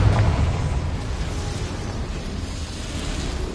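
Confringo blasting curse from a Harry Potter game going off as a deep rumbling explosion, loudest in a low boom at the start, then a sustained roaring, crackling burst.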